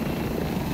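A helicopter in the VR video game Arizona Sunshine 2 gives a steady loud low rotor thrum that fills the short moment alone.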